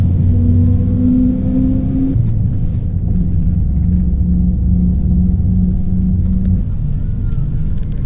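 A car drives along a road in the Peruvian highlands toward Ausangate National Park, its engine giving a loud, steady rumble with the gear tone shifting partway through.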